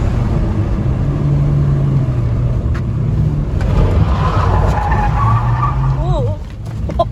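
A Renault Megane Coupé 1.6 16v sliding with its tires squealing, a steady engine drone under long screeching skids that waver and rise, loud from inside the car with people talking.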